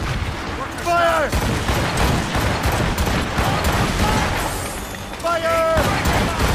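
A volley of gunfire crackles in a naval ambush battle in Assassin's Creed Rogue, with dense rattling shots under shouting voices and sharp whooshes near the start and end.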